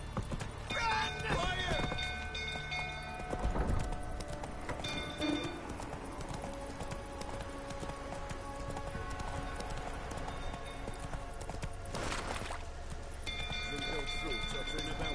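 Roach, a horse in the video game The Witcher 3, gallops with steady, rhythmic hoofbeats that run continuously under a fire scene, while people shout and talk over the sound.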